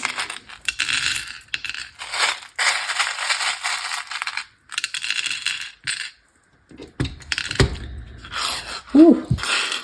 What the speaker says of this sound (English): All right, so let's stir these up.